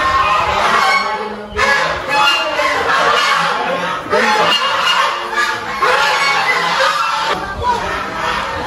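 A flock of geese honks noisily and continuously nearby, one voice briefly speaking amid the racket.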